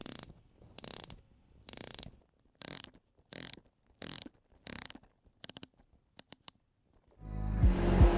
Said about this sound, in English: that amazingly satisfying bezel click that you hear in every Tudor diving watch